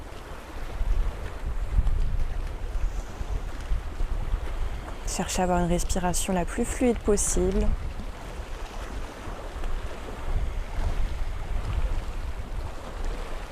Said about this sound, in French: Vous pouvez vous concentrer sur le clapotis des vagues qu'on entend derrière moi.